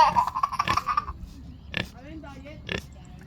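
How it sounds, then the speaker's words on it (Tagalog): Pig on a Filipino farm grunting and oinking in short bursts at close range, with a few rough snorts spread across the moment and people talking over it. "Yan ang baboy dito."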